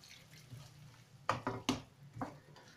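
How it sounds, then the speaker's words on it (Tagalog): A little water is poured into a pot of cottage pie, giving a quiet trickle and a few sharp splashing clinks against the pot close by in a kitchen. "Lagyan din po natin ng konting tubig."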